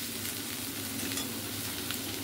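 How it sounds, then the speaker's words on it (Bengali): Garlic sizzles lightly in a pan, a soft, steady crackle with faint stirring scrapes, close by and unbroken by speech. "এরপর ভালো করে রসুনটাকে একটু হালকা একটু ভেজে নেব।"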